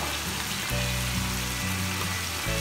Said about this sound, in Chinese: 搁完豆瓣酱以后，我们要炒制一会儿，把这豆瓣酱炒出香味来之后